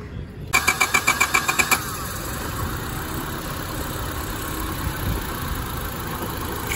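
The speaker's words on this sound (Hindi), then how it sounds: "इस इंजन की आवाज आपको सुनाना चाहूँ" A Honda Civic VTi Oriel's starter motor cranks in about eight quick rhythmic pulses, then the engine catches and settles into a steady, even idle.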